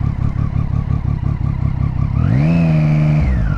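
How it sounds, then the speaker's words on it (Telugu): A Triumph Street Triple 675 with an Arrow slip-on exhaust idles with a loud, lumpy pulsing beat, then revs sharply about two-thirds through, holding a high, rising engine note before dropping back. No voices are heard. "ఇదైతే ఐడిలింగ్ బీటింగ్, దీంట్లో అయితే ఆరో స్లిప్ ఆన్ ఎగ్జాస్ట్ ఉంది."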